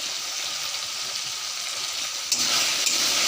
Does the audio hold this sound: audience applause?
no